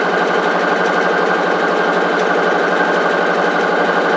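A sewing machine stitches an apron strap into a tube, a steady continuous mechanical whir that holds even and fairly loud throughout with no pauses and no voices.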